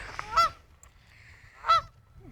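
Canada goose honking near a nest in Mackinaw City, two loud separate honks about a second apart over quiet outdoor background.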